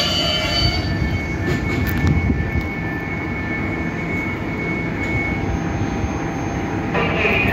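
Intercity and Polregio trains at Opole Główne station rumble steadily with a loud, continuous roar of wheels and engines, a high whine running through it and brief hisses near the platform, with no speech.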